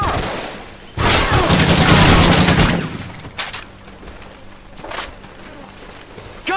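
Suppressing gunfire in a Modern Warfare 3 survival match on a village map, a loud sustained volley lasting about two seconds, then scattered single shots and quieter gaps.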